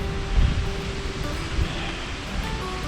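Wind blows outdoors in a steady, loud broadband rush, with a couple of low buffeting gusts striking the microphone and no voices.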